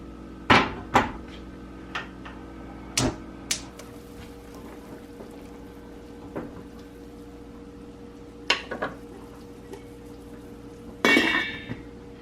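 Metal pots and a lid clink and clatter at a kitchen stovetop, with a few sharp knocks near the start, scattered taps after them and a last metallic rattle. No one speaks.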